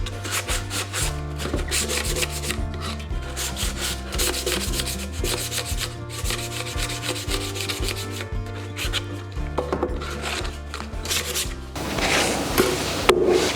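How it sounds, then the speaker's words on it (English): Sandpaper, 220 grit, rubbed lightly over painted wood in a thrift-flip makeover, giving a steady scratchy rasp that runs nearly throughout, close and fairly loud over a low droning background, with a rougher burst near the end. "So I'm just using 220 sandpaper, lightly going over to give it an aged look"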